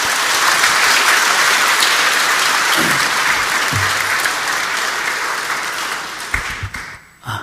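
A church congregation applauds in a loud, dense, continuous burst that gradually thins and tapers off toward the end.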